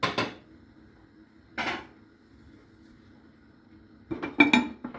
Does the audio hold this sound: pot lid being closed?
yes